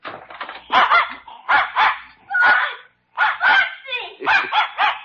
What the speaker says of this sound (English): I'm just going to open the door and let Spot out